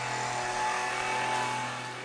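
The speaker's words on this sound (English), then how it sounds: "The guy across the street decided to blow the leaves." A leaf blower runs steadily across a residential street during exterior house painting, a constant whooshing drone that stays moderately loud throughout with no talk over it.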